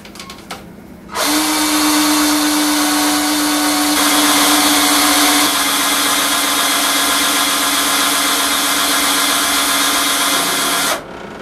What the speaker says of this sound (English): and turn the drill.